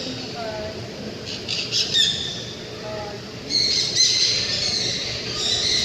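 A parrot gives short, sharp squawks and high chirps at close range, rising louder near the end over a steady background hiss.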